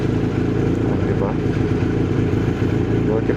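A BMW 1250 GSA motorcycle engine runs steadily at a constant idle-like rumble, close and loud throughout, with no talking.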